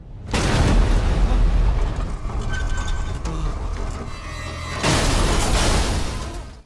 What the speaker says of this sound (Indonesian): Nyali Biku dibuat ciut ketika mobil yang dia kendarai tiba-tiba meledak